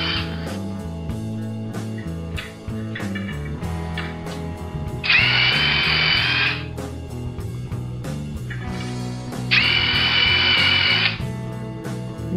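A power spoke wrench spins off bicycle wheel spokes in two loud whirring bursts of a few seconds each, set over a steady low mechanical hum with faint clicks between.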